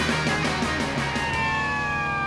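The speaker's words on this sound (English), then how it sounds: "Listen, those sound like sirens." Emergency sirens wail steadily, a continuous rising and falling tone that sounds near and fairly loud, with no talking over it.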